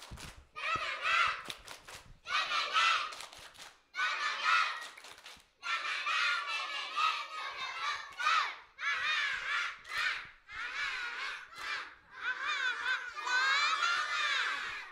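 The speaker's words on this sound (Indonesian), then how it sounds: "Yuk kita tepuk semangat dulu ya." Kindergarten children at a school talent show shout a rhythmic clapping chant together, loud and continuous in bursts, with sharp claps and a teacher's voice leading between the group calls.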